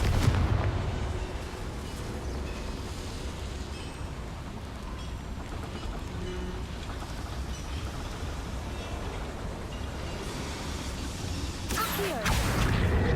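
A Confringo fire spell in Hogwarts Legacy blasts with a dense, rumbling explosive roar that sustains across the whole stretch, closing with a sharp burst near the end.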